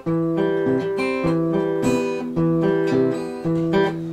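Fingerpicked acoustic guitar playing a repeating pattern of notes where the low bass notes are muted and cut off quickly instead of ringing out, close and clear.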